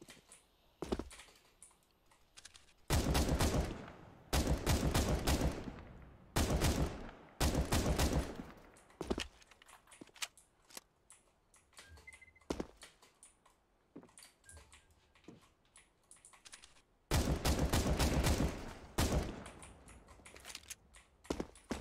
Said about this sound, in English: I'm using the auto weapon, by the way.